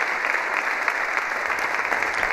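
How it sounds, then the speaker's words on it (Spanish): Sustained applause from a seated audience at the Cervantes Prize ceremony honouring Mexican writer Fernando del Paso, a dense even wash of clapping that holds steady throughout, with no speech over it. "Ahí le vemos aplaudiendo."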